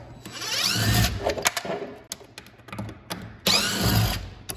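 A power screwdriver backing out the mounting screws of a wall-mounted touchless soap dispenser: two loud, close whirring bursts with ratcheting clicks and brief handling knocks between them.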